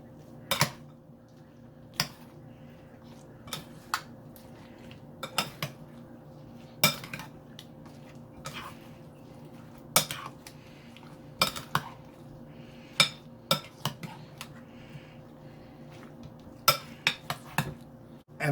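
Cream being mixed into fruit in a bowl, producing irregular light clinks and taps of a utensil against the bowl, close and fairly quiet, with no talking.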